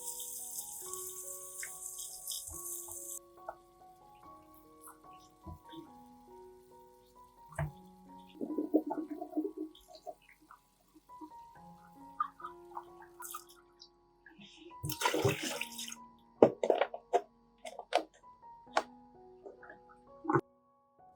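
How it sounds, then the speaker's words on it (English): Running tap water rinsing tomatoes in a kitchen, with splashing gushes that start and stop in short bursts over steady tonal background music. "Wash the tomatoes directly under the tap."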